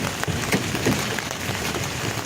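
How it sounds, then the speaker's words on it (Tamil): Heavy rain pours down at a river ghat near Triveni Sangam in Allahabad during the Kumbh Mela, a dense, steady hiss of drops hitting surfaces up close, with no talking. "சரியான மழை"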